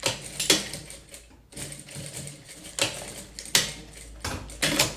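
A sewing machine stitches a zipper onto a crossbody bag in short rattling bursts separated by brief pauses, loud and close with no talking.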